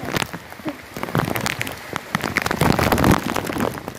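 Steady rain patters and drums close by on plastic sheeting near a river, with scattered sharper drops striking a surface amid the continuous hiss.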